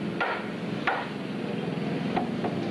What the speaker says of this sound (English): It's taking the hammer to it.